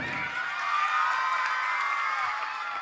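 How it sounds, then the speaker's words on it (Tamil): Spectators at an orchestra concert clap and cheer, a sustained, even roar of crowd noise filling the whole stretch at a steady loudness with no single voice standing out. "அந்த ஆடியோ அங்கிளுக்கு நல்லா கிளாப் பண்ணுங்க"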